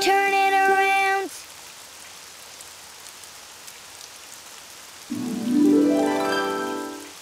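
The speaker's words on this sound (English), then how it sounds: "Oh, it's raining outside." Steady soft rain patters throughout, with a drawn-out tonal horn-like sound at the start and again near the end.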